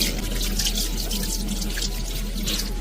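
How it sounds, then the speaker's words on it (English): Hands are rinsed under a running tap during a clinical handwashing routine, a steady close splashing and trickling of water that continues without pause and carries no voices. "Now rinse it thoroughly with water."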